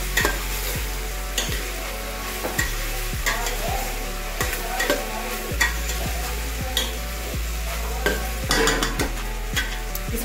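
Tahri, a spiced rice dish, being stirred in a cooking pot, with steady scraping strokes and clinks of the spoon against the pot over a continuous sizzle, close and moderately loud with no talk.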